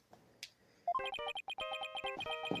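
A short electronic phone ringtone from Phoenix Wright: Ace Attorney Spirit of Justice plays a bright, rapid melodic pattern of chiming notes after a couple of faint blips, loud and alone.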